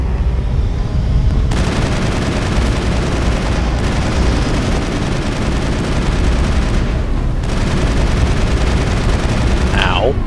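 Sustained assault rifle fire in Mass Effect during a medium-to-long range fight against Saren's forces, loud and continuous with brief pauses and a dense roar of shots and impacts throughout.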